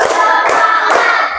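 A group of people claps in unison on cue, three sharp hand claps in quick, even rhythm, loud and close, with no talking over them.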